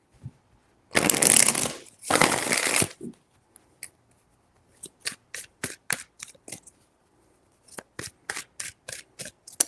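Tarot cards are shuffled close up: two long riffling bursts, then a run of short, crisp snaps and slaps in a quick uneven rhythm, with no talk.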